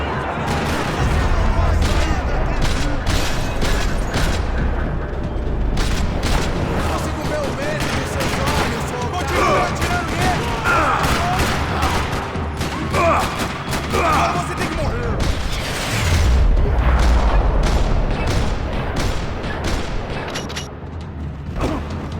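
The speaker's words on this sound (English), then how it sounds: "Another parking lot rattling with gunfire." Gunfire rattling through a parking lot in the video game Max Payne 3, dense bursts of shots and booms running continuously, loud and close, with voices speaking at times over the shooting.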